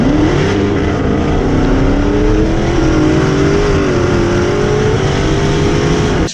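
A Corvette ZR1 accelerating hard, its engine roaring loud and close with a steadily rising, strained drone that holds for several seconds before cutting off abruptly.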